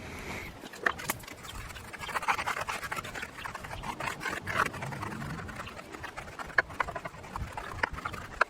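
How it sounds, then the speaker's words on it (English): A brush scrubs a car wheel foamed with Adam's Polishes wheel cleaner, making a continuous close, moderately loud swishing and scratchy rubbing with irregular strokes and occasional knocks. "Let's go ahead and get this thing scrubbed down."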